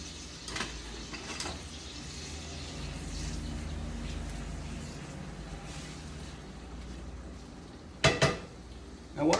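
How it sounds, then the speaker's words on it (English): A spoon scrapes and clinks against a pot of grits being stirred on the stove, soft and close with a low background hum, ending in a couple of sharper metallic knocks. "Make sure you stir your grits"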